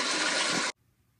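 A toilet flush sound effect: a loud, broad rushing gush of water that holds steady for under a second and then cuts off abruptly into near silence.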